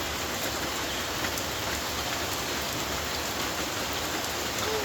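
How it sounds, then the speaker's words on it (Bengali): Steady rain falls without pause, a dense close hiss of drops striking surfaces that holds at an even level throughout, with no voices. "বৃষ্টি থামার জন্য অপেক্ষা করি,"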